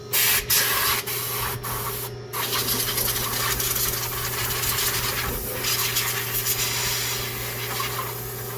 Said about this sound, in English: I'm also spraying around the holes each injector